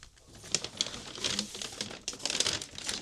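Rubbish is cleared out of an abandoned Lada car in rural Hungary, a close, irregular stream of crinkling, rustling and light knocks as debris is shifted and pulled aside, with no talk.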